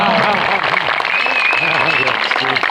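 An outdoor festival crowd at a hanok village claps steadily under loud, overlapping voices, with a musical tone drifting through the busy mix.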